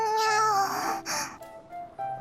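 A game cat in Infinity Nikki meows in a drawn-out, wavering call followed by shorter, softer mews, close and clear.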